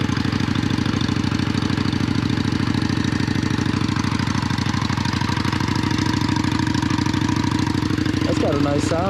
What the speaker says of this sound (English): Who made this bike sound so good?